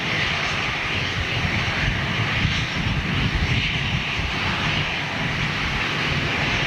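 A passenger jet in a new livery, formerly flown by Brussels, passes overhead with a loud, steady engine roar and broad rushing noise, constant throughout with no talk.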